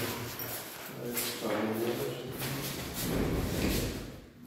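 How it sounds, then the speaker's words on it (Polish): Schindler 3300 elevator doors in a building in Sopot slide along in a smooth, muffled rumble with soft thuds, while a voice sounds faintly in the background. "Uważaj. Drzwi windy."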